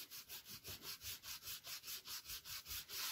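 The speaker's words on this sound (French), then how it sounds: "Je reprends mon chiffon propre et je viens appuyer et gommer ce qui dépasse." Clean cloth pressed and rubbed over a paper album structure to wipe away excess glue, a soft rhythmic swishing of about fifteen even back-and-forth strokes, close and quiet.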